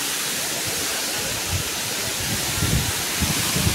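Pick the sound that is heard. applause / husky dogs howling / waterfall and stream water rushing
waterfall and stream water rushing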